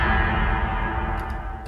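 A sustained unfiltered synth pad from the Hybrid Head Crusher cinematic sound design plugin, a dense, loud, even wash of tone with faint reverb and no voices.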